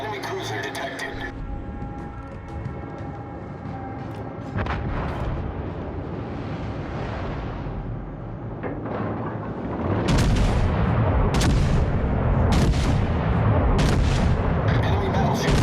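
Naval guns fire at enemy ships in World of Warships: Legends. A quieter stretch with a synthetic voice alert gives way, after about ten seconds, to loud repeated booming salvos and blasts.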